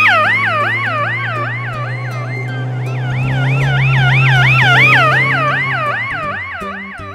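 A police car siren wails in a steady, repeating up-and-down sweep, loud and close throughout, with a low engine hum beneath and no talking.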